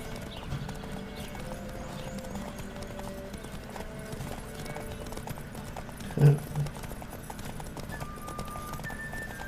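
Rhythmic hoofbeats of a galloping horse in The Witcher 3 over a busy game background, with a brief whinny partway through.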